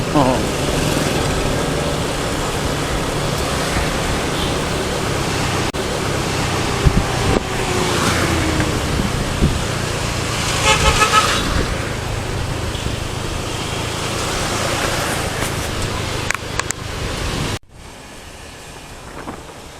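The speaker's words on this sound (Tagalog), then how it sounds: "ang haba ng traffic dito sa may patungong Fairview" Heavy daytime road traffic on the way to Fairview, with new-line minibuses among the cars, a steady broadband roar of engines and wind noise throughout that drops off abruptly near the end; no distinct horns stand out.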